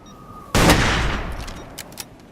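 Gunfire in the video game Ace of Spades, a single loud, close shot that bursts in sharply and fades, followed by a couple of faint clicks.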